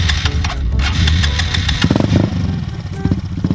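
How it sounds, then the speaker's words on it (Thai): Honda Monkey motorcycle with a full exhaust system and tuned engine, starting and running loud and close, with rhythmic, uneven idle pulses and blips, no talk. "เดี๋ยวเราจะมาสตาร์ทเครื่องให้ฟังเสียงกันก่อนเลยนะครับ"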